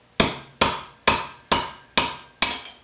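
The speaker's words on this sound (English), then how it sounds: "we're going to slowly tap with the hammer" Hammer tapping a cork down into a wine bottle: six sharp, evenly spaced knocks, each loud and close with a quick ringing decay, no voices.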